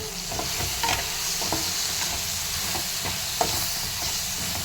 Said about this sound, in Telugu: కారానికి సరిపడా పచ్చిమిర్చి కొంచెం ఫ్రై అవ్వనియాలి